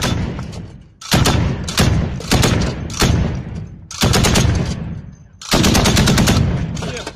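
Rapid bursts of firearm fire come in about five long, loud, close volleys separated by brief pauses, each a dense string of sharp cracks.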